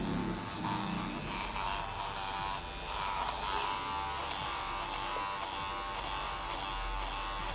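A cordless electric hair clipper hums with a steady, close buzz that runs unbroken from start to end, with no voices over it.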